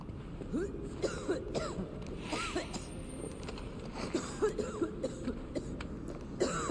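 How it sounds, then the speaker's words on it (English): A character coughs and clears their throat in the video game Assassin's Creed Valhalla, a string of short, rough coughs scattered over quiet in-game ambience. "all of that coughing should definitely show somebody that like, hey, somebody's coming"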